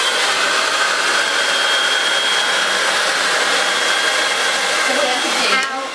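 A hair dryer blows steadily during a salon-style blow dry with a round brush, a loud continuous airy roar that holds almost unchanged before shifting slightly near the end.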